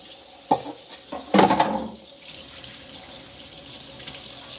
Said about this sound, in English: You wash my hands.